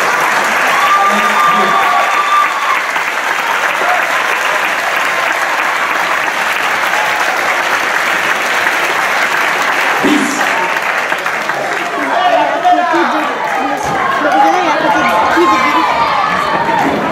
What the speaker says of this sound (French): alors on va les applaudir deux fois plus